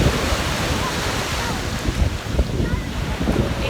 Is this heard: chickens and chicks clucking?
no